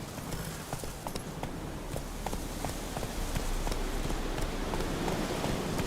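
Roach the horse trots in a video game, hooves clip-clopping in a quick steady rhythm over a wash of rain-like ambient noise, moderately close and without speech.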